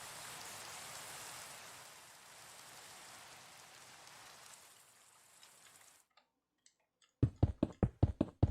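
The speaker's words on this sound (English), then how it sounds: "Of course it starts raining." Rain pattering outdoors, a soft continuous hiss of drops that fades out, then after a near-silent gap a run of sharp, loud, evenly spaced ticks or taps close to the microphone.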